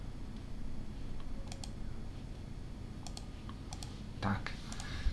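Keys clicking on a computer keyboard while entering text, a few scattered sharp taps over a steady low hum, with a short cluster of keystrokes near the end.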